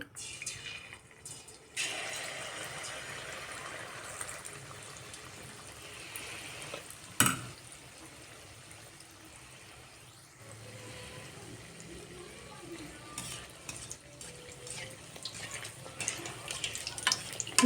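Malpua batter dropped into hot oil, a quiet background sizzle with a sharp brief knock partway through and the frying growing a little busier toward the end, no talk.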